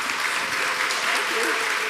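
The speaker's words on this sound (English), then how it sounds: "Please give your boisterous round of applause and appreciation for our dear elders." A church congregation at a Sunday service applauds its elders, a brief, dense wash of clapping from many people, loud and even throughout.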